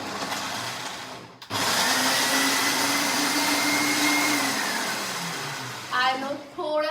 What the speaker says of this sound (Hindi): Let's grind it.